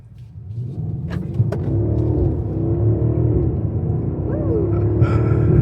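A 2026 BMW X5 M60i driving, with a steady loud engine and exhaust rumble that builds slightly as the SUV accelerates, plus faint cabin noises.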